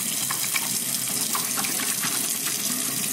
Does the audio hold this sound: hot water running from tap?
yes